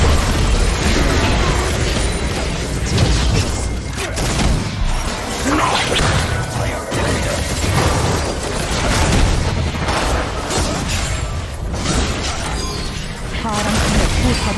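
Crashing booms and explosive bursts from the League of Legends video game pile up in a dense, continuous wash of battle effects during a mid-lane match, steady and loud throughout with no clear pause.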